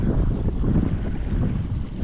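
Strong wind buffeting the microphone outdoors on a fishing outing for Australian salmon, a loud continuous low rumble with no voices.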